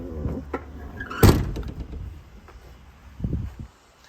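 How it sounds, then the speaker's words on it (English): Power door locks and electric windows work inside the cab of a 2007 Ford F750 mechanics truck. A sharp, loud lock clunk lands near the middle, followed later by a shorter mechanical whir and thump, close by. "You have power locks and power windows as well"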